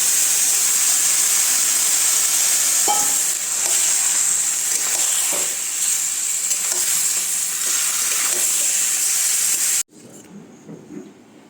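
Chicken curry with papaya, potato and chilli powder sizzles and fries in a hot kadai while being stirred, a steady loud hiss with scraping spoon strokes, cutting off abruptly near the end to quieter clatter.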